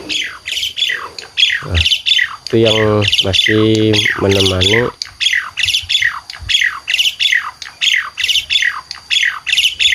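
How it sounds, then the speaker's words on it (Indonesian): Starlings (jalak birds) in a rooftop garden aviary: loud, close, harsh squawks and chirps in rapid repeated bursts, with someone speaking briefly over them. "Itu burung jalak,"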